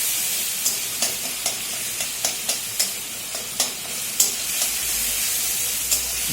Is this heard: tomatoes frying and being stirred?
yes